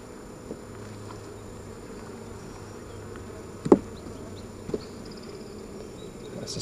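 Honey bees buzz continuously around an open hive during an inspection, a close, steady drone with a couple of brief knocks from frames being handled.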